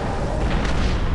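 A grenade detonating in Star Wars: Republic Commando, a dense, heavy rumbling boom that fills the moment loudly and evenly without pause.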